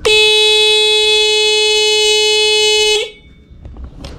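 A car horn wired to a yellow mini driving light blares one loud, steady, sustained honk for about three seconds, then cuts off. A faint click and rustle follow.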